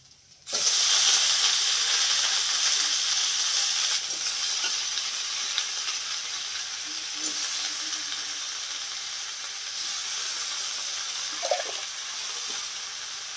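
Loud, continuous sizzling of onion, ginger and garlic frying in hot oil in a pan, a steady crackling hiss with no voices.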